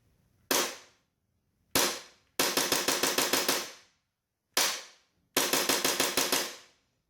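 A WE G17 Hi-Speed split-slide gas blowback airsoft pistol fires close and loud: two single sharp cracks, then a rapid string of about eight shots, another single crack, and a final fast burst of about seven shots.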